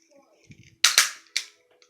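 A plastic toy gun with a pull-back mechanism: faint clicks from the mechanism, then two sharp, loud cap-gun cracks close together and a third shortly after.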